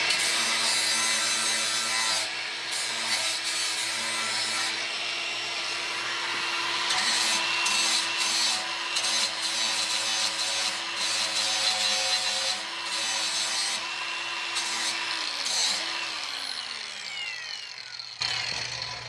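Hand grinder sharpening the flat side of a mulching combination lawnmower blade, a loud continuous grinding whine with shifting pitch and rubbing scrape over about nineteen seconds, briefly cutting out near the end.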